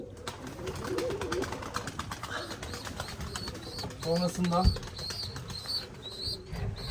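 Tumbler pigeons coo softly close by while wings flap in bursts; someone speaks briefly over the birds.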